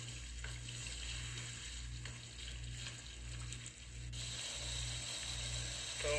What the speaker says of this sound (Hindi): इसको हम अच्छे से भून लेंगे।